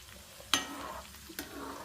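Tempering spices sizzle softly in hot oil for a carrot and raw mango pachadi, a steady low fry broken by two sharp scraping stirs.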